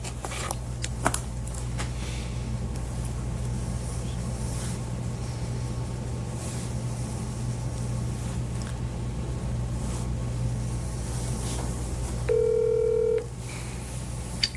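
A telephone number is dialed for a call, a short run of touch-tone beeps rising clearly over a steady low hum and background noise before the line connects.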